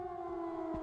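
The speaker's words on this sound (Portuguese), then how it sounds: "Deve ter um lugar pra desligar o alarme" Steady electronic alarm siren blaring in a video game, a sustained two-tone wail heard alone at moderate level.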